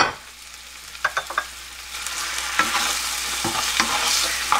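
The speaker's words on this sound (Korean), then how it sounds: "두부를 넣으시면 됩니다" Tofu goes into a pan of soy sauce seasoning, with a few soft thuds and splashes, then rising bubbling and sizzle as it is stirred with scraping strokes, close and moderately loud.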